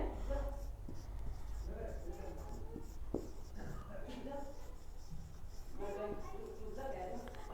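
Pen or marker strokes scratch out a written temperature statement for a maths lesson, short scratchy marks and taps in irregular rhythm while someone speaks over them.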